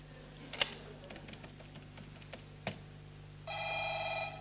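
Telephone keypad presses while a PIN is entered for a calling-card line: a few faint clicks over steady line hiss, then a sustained electronic phone tone near the end.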